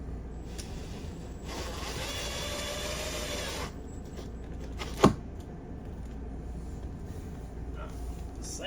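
A power driver whirs for about two seconds as a screw is driven into an RV pet gate bracket, followed by a sharp click and faint handling noises in a quiet interior.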